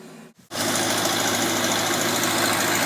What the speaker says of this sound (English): There it is, there's the tractor. They're running on the gas fire. Sounds pretty good.